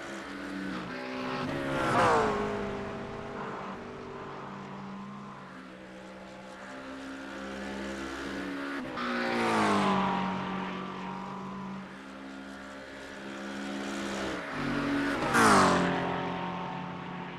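Racing-game engine noise as AMG and McLaren GT cars battle side by side downhill at Spa-Francorchamps, several rising and falling engine notes swelling past in waves with gear-change pitch sweeps, continuous and fairly loud.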